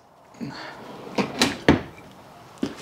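A soft-close drawer in a 2023 Jayco Pinnacle 36SSWS RV, built with five-piece hardwood fronts on 75-pound glides, slides and settles with a few soft clicks and thumps, up close, with nobody speaking.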